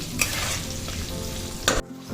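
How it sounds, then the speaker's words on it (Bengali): Potato pieces fry in hot oil with salt and turmeric for a Bengali deshi chicken curry, a soft continuous sizzle under clacking stirs and a couple of sharp scrapes against the pan, close but quiet, no talking. "নুন আর হলুদ দিয়ে আমি একটু আলুটাকে ভেজে নেবো"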